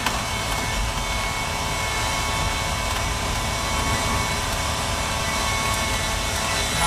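A 660cc kei camper engine weighing 1.3 t roars steadily as it climbs a steep mountain road at 1300 m in second gear, a loud continuous drone with broadband road and wind noise, no talking.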